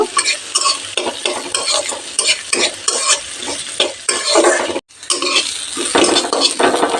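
Onions frying on medium heat in a pan for egg fried rice, a loud steady sizzle broken by repeated scraping stirs of a spatula, with one brief pause near the end.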